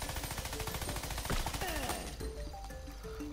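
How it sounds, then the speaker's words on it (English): Rapid Uzi gunfire in the video game Worms Battlegrounds, a dense loud burst of shots over game sound, tapering into quieter effects and music near the end. "I'm just gonna shoot it with an Uzi if that works."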